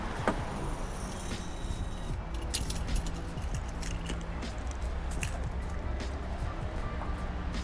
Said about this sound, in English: I'm gonna grab the keys so I can show you in there